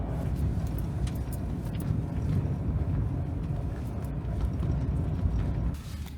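A $600 Mazda Miata driving on the road, a steady low engine drone and road rumble with wind noise heard from inside the car, continuous and close, easing off at the very end.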